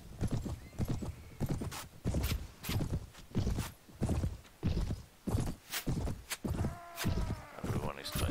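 Horse hooves clip-clop in steady rhythmic beats while riding in the video game Mount & Blade (Prophesy of Pendor mod), a Noldor horse carrying the rider, with occasional whinnies and a voice talking over it.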